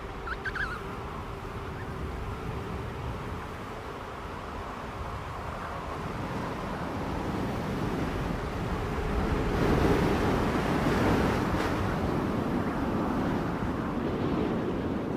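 Strong wind of about 100 km/h roars continuously in Antarctica, buffeting loudly and building in force toward the end.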